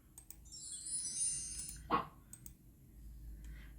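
A computer mouse clicks once during an online teaching lesson, a single short sharp click in an otherwise quiet room, with a faint electronic chime heard earlier.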